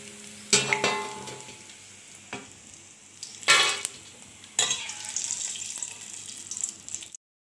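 Maize for chivda fries in hot oil, with sharp hissing bursts as batches hit the pan, quieter bubbling and clatter between them, then an abrupt stop.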